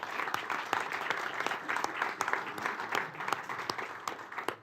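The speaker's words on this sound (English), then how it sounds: "A round of applause for Manu fella." Audience applause at an alpine ski race talk event, a steady spread of many hands clapping at moderate distance, fairly quiet and continuous throughout without voices over it.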